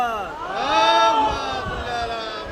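A majlis crowd at an imambada in Lucknow answers a call with a loud chanted salawat, many voices rising in a sustained, swelling chorus that tails off near the end.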